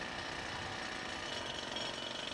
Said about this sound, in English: His drill weighs 45 kilos.